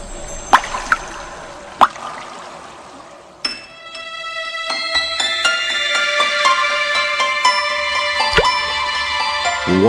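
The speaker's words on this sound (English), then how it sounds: "Water." Water drips and plops at first, a few sharp isolated drops, then a steady close trickle with small clinking tones builds and continues to the end.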